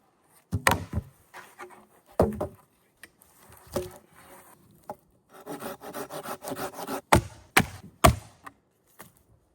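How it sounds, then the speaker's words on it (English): Hand sawing of firewood with a new Silky pruning saw: bursts of rasping wooden strokes in uneven runs, close and moderately loud, with short pauses between cutting sessions. "This is a nice new silky saw"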